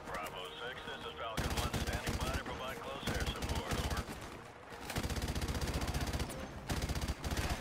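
Heavy machine gun firing in Call of Duty 4 Remastered, long rapid bursts of loud automatic fire separated by short pauses, with quieter game effects between bursts.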